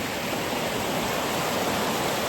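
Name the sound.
river flowing at a snowy mountain river crossing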